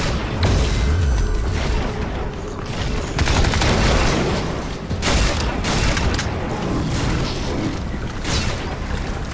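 A grenade detonates amid gunfire in the shooter game Crysis 3, loud booms and rattling bursts layered over a dense, continuous wash of battle noise.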